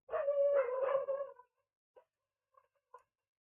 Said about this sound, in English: And I'm sorry for the dogs.